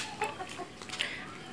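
A few soft, close chicken clucks in a quick, uneven burst against a quiet background.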